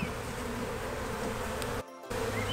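Honey bees crawling over hive frames during a queen search give a steady, close, dense hum that fills the whole stretch, dipping briefly near the end before resuming, with no talking.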